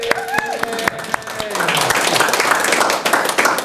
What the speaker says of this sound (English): See, now that is what we would call a cheap applause